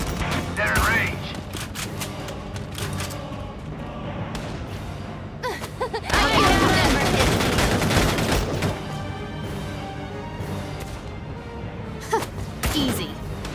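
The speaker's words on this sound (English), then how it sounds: "We need suppressive fire now!" Suppressive gunfire in the war game Valkyria Chronicles 4 sounds as dense bursts of rapid shots, loudest in a heavy middle stretch, mixed with game music, effects and a voice shouting orders.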